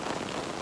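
Heavy rain pours down in a dense, unbroken hiss of drops on surfaces, loud and constant throughout the short stretch with no voices.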